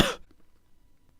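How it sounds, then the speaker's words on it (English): A single short, harsh cough sounds close to the microphone at the very start, then only faint background noise follows. "use trimming to remove this cough from the recording"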